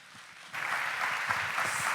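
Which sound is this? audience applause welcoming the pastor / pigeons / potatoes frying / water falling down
audience applause welcoming the pastor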